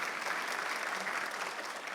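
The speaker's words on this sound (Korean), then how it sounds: "박수 치세요" A brief burst of steady applause rises from a Sunday church congregation, an even wash of many hands clapping, fairly soft and continuous.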